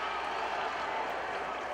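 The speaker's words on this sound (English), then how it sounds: "the home crowd erupts with pleasure" A home crowd at a Navy vs. Fordham water polo championship game roars and applauds in a steady, dense wash of cheering that holds for the whole stretch without letting up.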